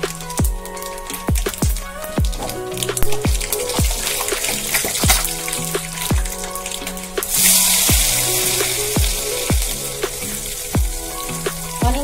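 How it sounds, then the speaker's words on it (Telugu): Onions frying in hot oil with mustard seeds for Andhra-style lemon rice give a steady, close sizzle, with regular sharp ticks and pops throughout and no talk. "ఆవాలు చిత్ర కొంచెం చుట్టుపక్కలాగిన తర్వాత ఆనియన్స్ వేసుకున్నామండి"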